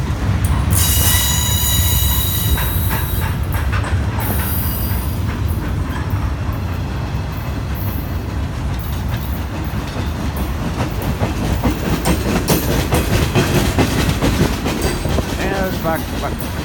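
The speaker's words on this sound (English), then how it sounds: "Continuously welded rails. And there's a covered hopper as the buffer car." A long Union Pacific maintenance freight train carrying continuously welded rails rolls steadily past nearby, wheels clicking over rail joints with occasional high metallic squeals, loud and continuous.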